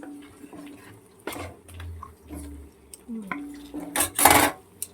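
A spoon scrapes and clinks against a pan while cardamom and black pepper are stirred into pulao. The metallic knocks and rasps are close and intermittent, growing louder toward the end.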